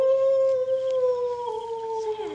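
A person gives a long, wavering howl imitating a wolf as a signal. The sustained tone slowly falls in pitch and is heard fairly close and alone.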